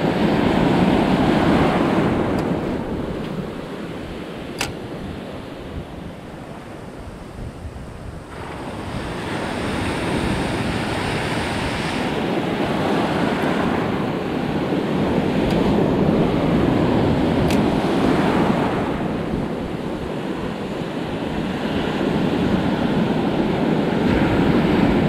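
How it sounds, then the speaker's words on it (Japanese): Ocean waves wash over a shallow reef in Okinawa, a broad continuous roar that swells and eases in slow surges, mixed with gusty wind buffeting the microphone and no voices. "波が強くなったり弱くなったりしてるね"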